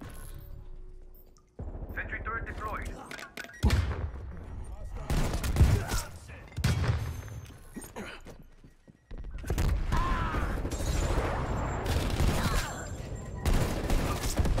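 Bursts of heavy hand cannon gunfire in Black Ops Cold War, loud booming shots in clusters separated by short gaps, with game sound effects and some background talk.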